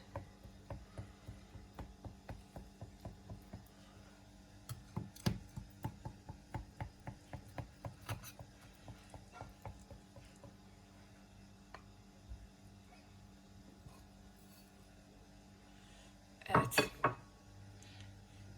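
A knife slicing through crisp börek pastry, a quick run of rhythmic crunchy ticks at first, then scattered cuts with pauses and a louder clatter near the end, quiet and close.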